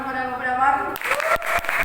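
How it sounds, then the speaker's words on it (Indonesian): Applause breaks out after a voice speaks, a short burst of clapping from a small audience at a student debate, fairly close and lively. "Oke, beri tepuk tangan."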